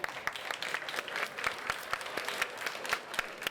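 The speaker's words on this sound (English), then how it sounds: "Round of applause." Applause from a conference audience at a fireside stage, a fairly quiet, moderately sized round of clapping with individual sharp claps popping out of the blended patter, continuing steadily throughout.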